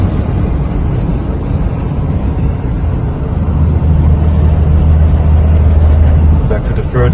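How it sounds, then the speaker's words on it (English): Steady in-cabin drone of a BMW E9 3.0 CSI cruising on a German country road, engine humming low and constant throughout with road and wind noise, a low tone swelling slightly toward the end as the car climbs a hill. "Car drives excellent."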